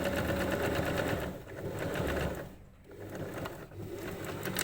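A sewing machine stitches a narrow double rolled hem, running in a fast, steady mechanical chatter that briefly slows and dips twice before picking back up, close by and alone.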